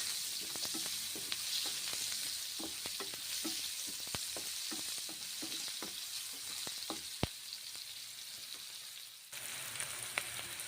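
Onions frying in hot oil while stirred, a continuous close sizzle punctuated by regular scraping and tapping strokes of a spatula against the pan.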